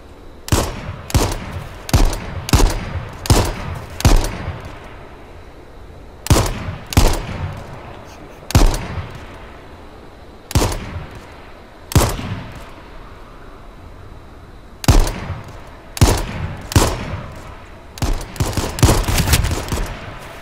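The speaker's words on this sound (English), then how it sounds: "You getting shot at?" Bursts of gunfire in the battle royale game H1Z1, loud sharp volleys of rapid shots in uneven clusters with short pauses between them, coming closer together toward the end and with no talk.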